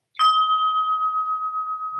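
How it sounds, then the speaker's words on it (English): A struck percussion bell rings out with one sharp attack and then a steady, sustained tone that holds evenly for about two seconds, loud and close, with no talk over it. "Let's start with this bell."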